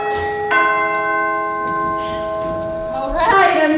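A doorbell rings with sustained, clear chiming tones that hold for several seconds, then a second, brighter chime sounds near the end, fairly loud and close indoors.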